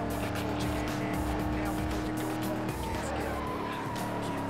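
In the racing game Need for Speed Most Wanted (2005), a Ford Mustang's engine drones continuously as it accelerates, with tire skids and squeals mixed in at steady loudness.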